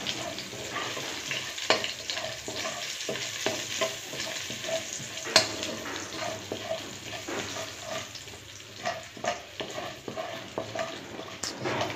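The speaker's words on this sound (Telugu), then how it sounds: "ఎండుమిర్చి, జీలకర్ర, ఆవాలు. కొద్దిగా వేగనివ్వండి." Dried red chillies, cumin and mustard seeds with curry leaves fry in a pan for tomato chutney, a steady loud sizzle with repeated stirring scrapes and small crackles, close and without talk.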